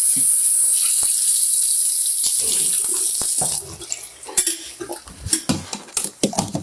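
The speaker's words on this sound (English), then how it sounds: "You can dump that down the drain." Coffee poured down a hotel-room sink drain with the tap running, a loud steady rush of water that stops, followed by clinks and clatters of a cup and dishes close by.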